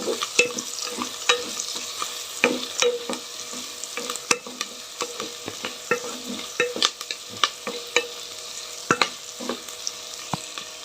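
Carrots and potatoes stirred and frying in a pan for a sabudana khichdi, a continuous sizzle broken by frequent sharp scrapes and taps of a spatula at an irregular, busy rhythm, close and with no voices.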